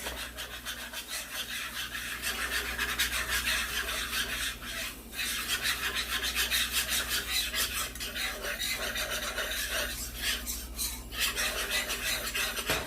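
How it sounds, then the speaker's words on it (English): A whisk stirs flour in a pan to brown it, giving a continuous scratchy rasping and scraping with rhythmic strokes at moderate volume. "Get your whisk out. You want to brown this flour."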